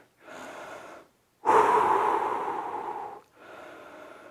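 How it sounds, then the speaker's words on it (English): Heavy breathing during a lower-body workout stretch: a moderate inhale, a pause, then a long forceful exhale, followed by another softer breath, close and clear with no talking. "So let's breathe."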